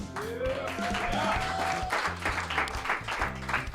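Audience applause and cheering at an open mic night at the Loisaida Center, a steady burst of clapping mixed with whoops and a rising shout, sustained and fairly close throughout.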